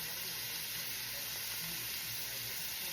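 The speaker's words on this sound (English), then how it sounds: "I'm just gonna get a little bit of color on the tenders" Chicken tenders brown in a hot pan, producing a loud, even, close sizzle and hiss that holds steady throughout with a faint low rumble beneath.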